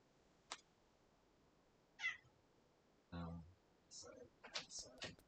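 A house cat meows several times in a quiet setting within a video game, short separate cries spaced out, the later ones closer together, with no talking over them.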